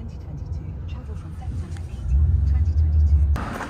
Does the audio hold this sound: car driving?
yes